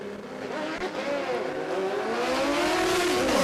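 At a drag racing championship event, cars launch off the line with a loud, rising engine roar that swells and builds in pitch as they pull away, heard from a short distance with crowd-level ambience.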